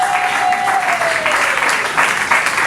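Church congregation applauding at a Sunday worship service, a steady dense wash of clapping from many hands throughout, with faint voices mixed in.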